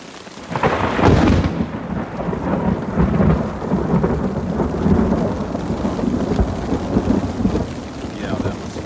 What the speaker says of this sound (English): Not just a thunderstorm, but we have hail.